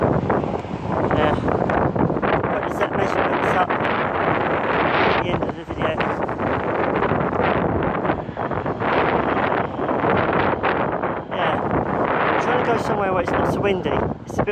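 Strong wind buffets the microphone on Southend Pier above a choppy sea, producing a loud, continuous roaring rumble that lasts throughout.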